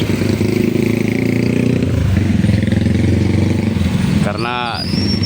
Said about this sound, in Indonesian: Ini volume kendaraan berangsur-angsur mulai meningkat ya di siang hari ini ya.